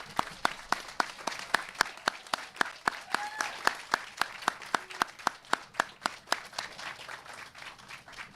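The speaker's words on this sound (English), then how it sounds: "recognize you with a proud round of applause and our many thanks" Steady applause for veterans standing at the grand opening of Alfonso Flores All Star Park, sharp regular claps ringing out over a soft outdoor crowd for about eight seconds.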